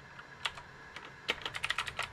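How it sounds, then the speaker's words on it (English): Typing a command on a computer keyboard at a console: a short run of distinct key clicks, a few isolated presses and then a quicker cluster, close but fairly quiet. "we're going to type pip3"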